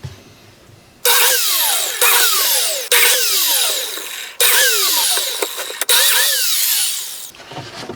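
Power tools working wood: a drill and a biscuit joiner cutting slots whine up in five or six loud bursts, each spinning up sharply, holding briefly and winding down, close and with no talking.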